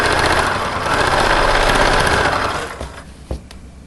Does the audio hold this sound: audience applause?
no